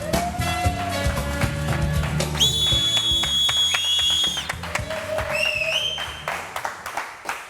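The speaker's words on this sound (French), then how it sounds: "Kadja, on va faire un tonnerre d'applaudissements pour lui, s'il vous plaît." An audience at a hip hop show whistles loudly and claps, with several long piercing whistles overlapping and bursts of applause and cheering around them, close and energetic, fading toward the end.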